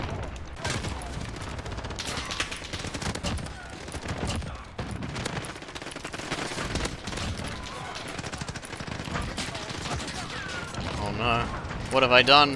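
Shotguns with big ammo blast repeatedly in a video game, dense rapid bursts of loud crashing gunfire throughout, with a player's voice speaking over the shots.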